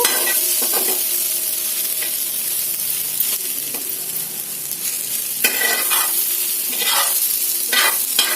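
Radish fry being stirred in a pan with oil: steady scraping of a spatula against the pan over a continuous sizzle, with a few sharper clanks near the end and no talking.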